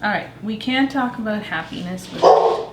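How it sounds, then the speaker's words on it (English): A dog barks a few times close by, sharp yips mixed in with a person talking steadily over them. "And that was my dog barking."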